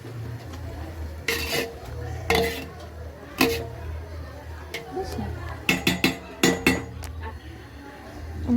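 A spoon scrapes and clinks against a pot while green chickpea curry with turmeric is stirred, the metallic strokes coming in irregular bursts over a faint background murmur.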